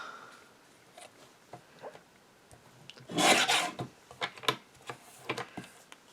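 Scissors trim a paper butterfly cut-out for a handmade card, with a brief rasping snip burst in the middle surrounded by quiet clicks and small paper rustles.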